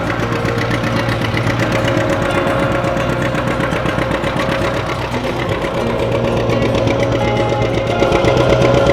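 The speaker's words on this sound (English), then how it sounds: "Nice noisy tractor." A tractor engine runs steadily and loudly throughout in an Oak Glen apple orchard, a continuous chugging mechanical drone with no pauses.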